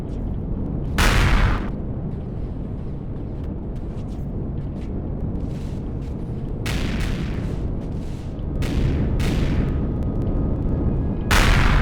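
Artillery fire in the space game Empyrion: several heavy, booming shots spaced a few seconds apart over a constant low engine rumble, loud and close.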